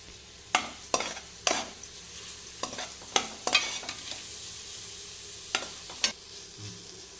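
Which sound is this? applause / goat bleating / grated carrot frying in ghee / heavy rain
grated carrot frying in ghee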